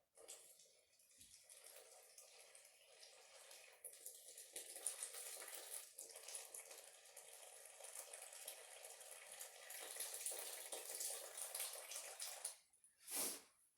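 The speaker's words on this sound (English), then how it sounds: "And then you just want to add 12 ounces of room temperature water. You just pour it right on top." Twelve ounces of room-temperature water stream steadily, pouring and splashing into a mixing bowl of bread flour for over ten seconds, close by, ending with a brief louder splash.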